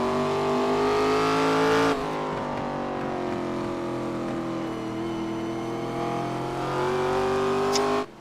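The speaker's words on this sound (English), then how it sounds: "Listen to these engines." ARCA Series race car engines at Lime Rock Park roar loud and continuous, holding a sustained high drone with a sudden pitch drop early on, then climbing again before cutting off.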